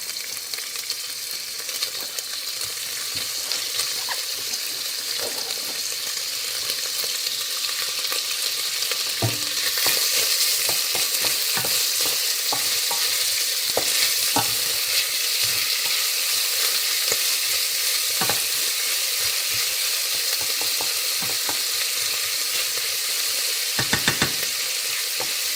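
Bacon fries in hot oil in a pot, giving a steady, dense sizzle that crackles and pops sharply throughout, with occasional brief stirring clatter and no talking.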